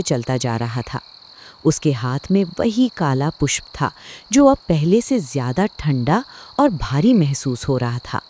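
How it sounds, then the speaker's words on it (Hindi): Crickets chirp in a forest at night, a steady high-pitched trill that holds constant beneath a narrator speaking throughout. "चारों ओर सिर्फ झींगुरों की आवाज गूंज रही थी"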